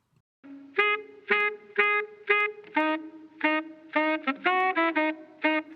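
An original saxophone splice sample plays a staccato riff of a dozen or so punchy, harmonically rich notes in a bouncing rhythm, upfront with no voices.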